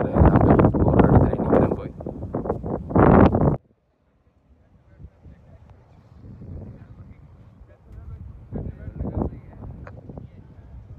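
Hot desert wind gusts rumble and buffet the microphone after a burst of loud talking in Tamil, then continue as a low, uneven roar with a few faint voices, on a desert safari in the UAE.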